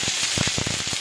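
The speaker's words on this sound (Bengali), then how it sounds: "এবার আমি এগুলো নর্মাল হিটে ভাজবো" Food frying in a few spoonfuls of oil on a tawa at normal heat, a continuous sizzle with quick crackling pops spread across the moment.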